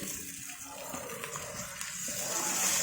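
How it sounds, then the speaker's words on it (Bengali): Water pours steadily into a pan of chicken biryani masala at close range, a soft continuous gush with faint hiss and no voices. "এবার দিয়ে দিব অল্প একটু পানি।"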